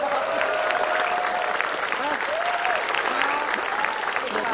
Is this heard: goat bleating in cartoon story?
no